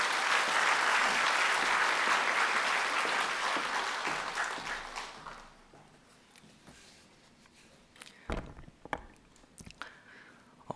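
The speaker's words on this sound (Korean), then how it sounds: "나오실 때 우리가 힘찬 박수로 모시겠습니다" Loud, dense applause from a church congregation welcoming a pastor to the pulpit fades away after about five seconds, leaving near silence broken by a few faint knocks and handling sounds.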